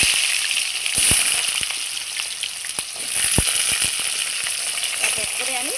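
Cut, washed potatoes sizzle in hot oil tempered with five-spice, a steady bright frying hiss broken by sharp pops and clicks of a spatula, close and continuous.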